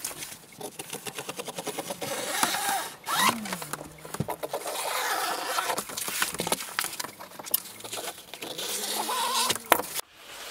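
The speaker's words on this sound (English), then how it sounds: "Now I'm just going to cut this shape out, remembering for the 1/4 inch seam allowance." Scissors cut through waterproof fabric to shape an outdoor garden seat pad. The rasping and crunching is steady and close, broken by brief snips and crinkly rustling of the material, with no talking.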